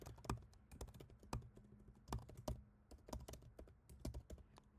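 Close, soft clicking of a computer keyboard as an email address is typed, keystrokes coming in irregular runs with brief gaps, no voices.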